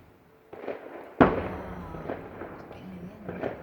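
Fireworks bursting at an outdoor public display at Hook Road Arena, Epsom, with one sharp loud bang near the middle and duller pops and crackles around it, under faint crowd chatter.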